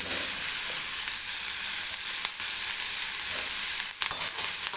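Onion frying in oil until soft, a continuous even sizzle with a couple of brief sharp clicks from a utensil, heard alone without talk.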